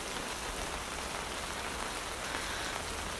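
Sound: rain

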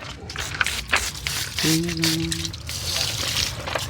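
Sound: water poured over a person while bathing

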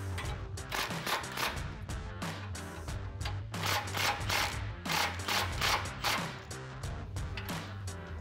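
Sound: bolts being snugged up on a Bronco grille guard

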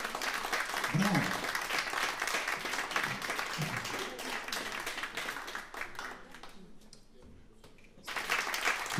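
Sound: audience applause at opera night

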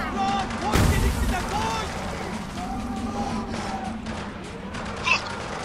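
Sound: gunfire in the video game Spec Ops: The Line

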